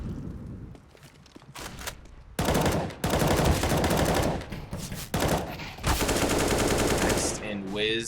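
Rapid pistol fire from Glocks and Tec-9s in a Counter-Strike match on the Mirage map, loud bursts of shots crackling over and between excited casting commentary.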